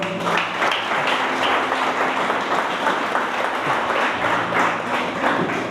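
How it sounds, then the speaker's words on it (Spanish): A church congregation applauds during a Spanish-language sermon, a loud, even, sustained roar of many hands clapping at close range with a few stray thumps mixed in. "Denle un aplauso al Señor."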